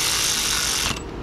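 A hand ratchet snugging down the camshaft sprocket bolts on a Hyundai Elantra engine, a close, steady grinding clicking that runs continuously before easing slightly near the end.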